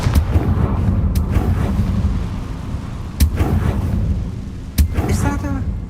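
Confringo explosive spell cast in Hogwarts Legacy, sharp blast bursts, about three loud booming impacts spread over several seconds against a rumbling game background.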